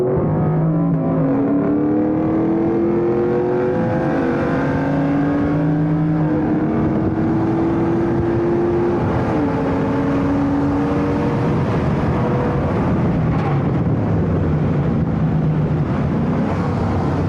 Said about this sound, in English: So this is me and him racing, doing a 30 roll, and my RPMs were like super high.